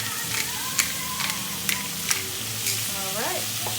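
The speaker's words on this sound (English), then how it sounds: "I'm going to let this just saute a little bit more." Vegetables for beef stew sauté in a hot pot with a steady close sizzle, broken by a few sharp scrapes and clinks of a stirring utensil.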